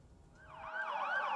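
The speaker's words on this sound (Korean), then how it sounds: "경찰차 사이렌이 울리고" A police car siren wails near a high school in Atlanta, Georgia, during a shooting emergency, rising in after a quiet start and holding a loud, steady up-and-down tone.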